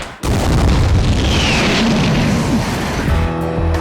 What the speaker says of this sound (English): stuff it with explosives, connect them all up, get out of the way, blow it down